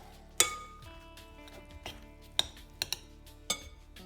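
A few sharp clinks of a utensil against a bowl while mixing eggs into a cauliflower pizza crust mixture, scattered and fairly close, over a quiet background with faint rustling between them.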